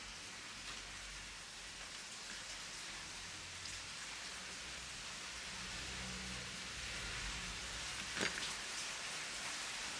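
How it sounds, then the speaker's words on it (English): Steady rain patters and hisses across the whole stretch, with a faint low rumble underneath and one sharper drip-like tap near the end. "Excuse the rain."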